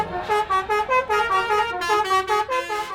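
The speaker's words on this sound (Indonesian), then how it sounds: "Di ajang berkumpul puluhan bis ini, klakson dibunyikan saling bersahutan." Telolet musical horns on a gathering of dozens of buses play loud, melodic multi-tone honks in quick rhythmic bursts, the horns answering one another back and forth.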